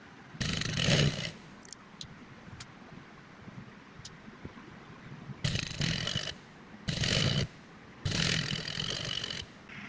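A sewing machine stitches along folded fabric to make ruffles, running in several short loud bursts separated by quiet pauses with small clicks.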